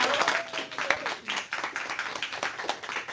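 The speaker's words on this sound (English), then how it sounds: "So let's give this group a round of applause." Audience applause at a company town hall for a home care cooperative, a steady wash of many hands clapping at moderate volume throughout, fairly close, with a faint tone and no clear speech.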